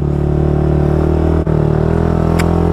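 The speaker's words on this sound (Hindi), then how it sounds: "बाइक जवाब पे जवाब दे रही है भै भै करके।" A motorcycle engine labors in deep desert sand, a close, steady droning rumble that briefly cuts out midway before picking back up.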